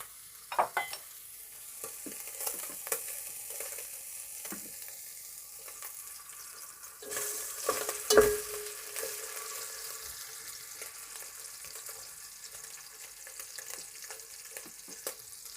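Meat frying in cooking oil in a pot: a quiet, continuous sizzle with scattered stirring clicks and scrapes, and a brief louder clatter midway, heard close with no speech.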